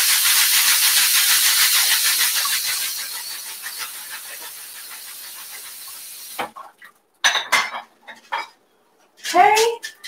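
Rice being rinsed in a pot under running tap water to wash off starch, a steady broadband splashing wash for several seconds that fades, followed by a few short clinks and handling sounds with brief talk.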